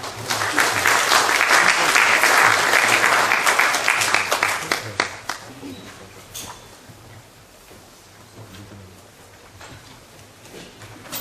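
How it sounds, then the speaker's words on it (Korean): An audience at a hanok architecture forum applauds to welcome a professor's presentation: dense, loud clapping for about five seconds, then tapering to a softer patter and near quiet. "모두 박수로 맞이해 주시기 바랍니다."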